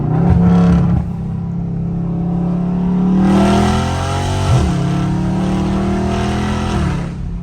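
Dodge Charger Scat Pack V8 revving hard from the driver's seat, a deep throaty roar that swells and climbs through repeated pulls, loud and continuous with no talk over it.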